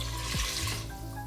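Water pours steadily into a pressure cooker while chili is being made, a close, continuous splashing stream that runs for the whole moment without any talk.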